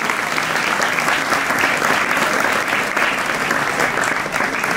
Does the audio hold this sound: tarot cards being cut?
no